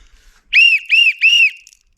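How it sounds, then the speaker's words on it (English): A cheap emergency survival whistle is blown three times in quick succession, each blast short, shrill and loud with a slight warble, close to the listener. "Let's take a listen to this whistle."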